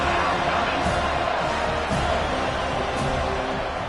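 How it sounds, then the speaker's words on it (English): A football stadium crowd at a college game roars in a dense, continuous wall of cheering and noise that holds steady throughout, with no single voice standing out. "this crowd is tearing the lid off this place"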